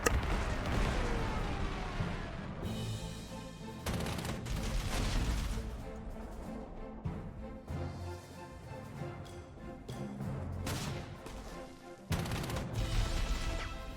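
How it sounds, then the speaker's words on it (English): Bombing of an anti-tank unit in the Panzer Corps 2 Dunkirk campaign, a run of heavy game explosions and crashes with several distinct blasts, loud and dense, no talk. "I'm just gonna bomb the anti-tank here."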